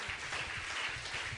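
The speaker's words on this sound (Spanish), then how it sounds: "Dale un fuerte aplauso a Jesús." Brief burst of church congregation applause at a Spanish-language sermon, dense clapping filling the room with low rumbling murmurs beneath.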